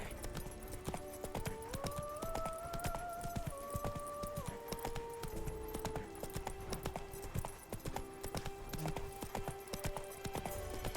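Horse hooves clip-clop in a steady galloping rhythm while riding in The Witcher video game, mixed with game music carrying a sustained melodic line and occasional faint whinnies.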